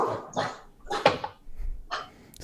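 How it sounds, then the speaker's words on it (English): Wolves bark in a sound effect played during a Feywild fantasy tabletop adventure: several sharp, separate barks and yips in uneven succession, fairly loud and clear. "Suddenly you hear the wolves barking in the distance."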